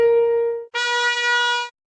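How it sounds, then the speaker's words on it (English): A sustained piano note sounds first, then a bright trumpet note follows at the same pitch, two plain tones played one after the other with a short gap between them for pitch comparison. "Okay, so a piano and a trumpet,"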